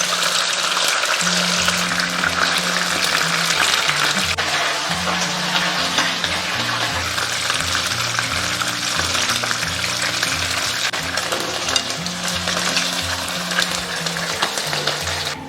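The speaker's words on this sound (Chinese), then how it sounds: "我先炸的里脊肉，等一下再炸沙爹肉，煎至一面金黄就可以翻面" Thin slices of pork tenderloin for satay skewers fry in hot oil over medium heat, giving a continuous, close sizzle and crackle with no talking.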